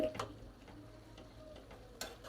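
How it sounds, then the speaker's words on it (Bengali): Greens with potato being stirred in a pan as they cook with fish: a few sparse scraping and tapping strokes of a utensil, soft and close, over a faint background hiss. "এখন আমরা এই শাকটাকে একটু লাড়াচাড়া দিয়ে"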